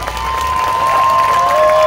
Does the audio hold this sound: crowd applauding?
yes